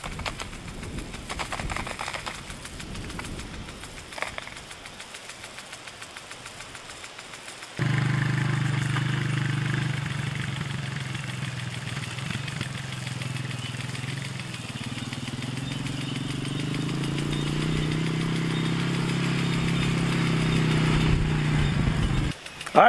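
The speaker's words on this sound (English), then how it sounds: "So now I can go turn the pump back on and that thing will start shooting off." A water pump engine runs steadily to feed a sprinkler watering a Christmas tree farm. It kicks in loud and close about a third of the way through, after quieter rustling, and holds a constant droning hum to the end.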